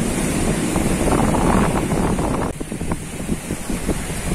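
Sea waves and strong wind buffet the microphone on a small fishing boat, a loud, steady rush of surf and gusts with no voices.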